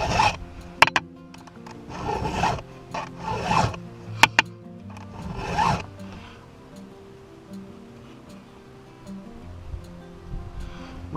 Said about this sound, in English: After you've been sharpening chain for a while by hand